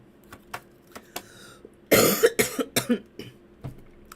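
A few coughs in quick succession near the microphone, preceded by light clicks and small sounds.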